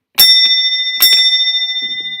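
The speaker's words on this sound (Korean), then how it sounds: "예배 시작을 알리는 종소리" A church bell signals the start of a worship service with two clear, bright strikes about a second apart. Each strike rings on with a sustained, gradually fading tone, and a faint rustle follows near the end.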